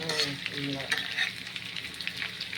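Potatoes fry in a pan with a dense, continuous crackling sizzle, close and fairly loud, with faint stirring and no speech.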